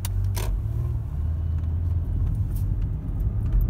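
A Lexus RX running on LPG drives along with a steady, low engine rumble heard from inside the car, and a brief clatter comes near the start.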